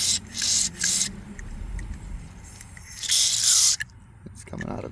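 Cleaner is sprayed in short, hissing bursts through the carburetor of a Generac generator clogged with debris, several close aerosol blasts separated by quieter pauses with faint handling noise.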